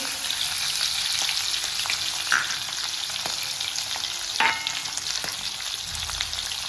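Chopped onion and pumpkin hiss and crackle as they drop into hot sambar, with a steady close sizzle and a couple of louder splatter bursts and stirring noises along the way.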